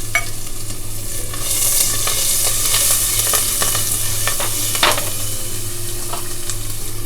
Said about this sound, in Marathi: आता ही लसूण आणि कांदा आणि कढीपत्ता चांगली फोडणी आपण ही भाजून घ्यायची आहे.